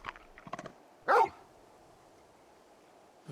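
A dog barking in Final Fantasy XVI, a few quick yips followed by one louder, sharper bark, then quiet ambience and a faint last sound at the end; no talking.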